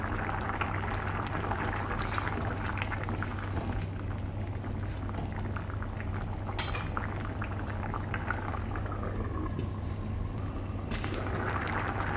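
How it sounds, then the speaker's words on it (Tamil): Raw jackfruit sambar with tamarind water boils steadily in a pot, a continuous close bubbling and simmering with small pops and occasional clinks, no voices. "இன்னும் 1 நிமிஷம் கொதிக்க விடலாம்."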